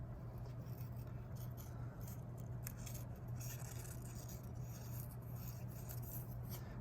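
Scissors snip and rasp through paper in a continuous close, soft cutting texture, the blades worked without fully closing as the sheet is turned, over a steady low background hum.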